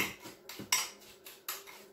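A spoon scrapes and taps quickly around a bowl while cinnamon roll filling gets mixed with a pinch of vanilla extract, sharp clinks repeating about every quarter second, close and fairly quiet.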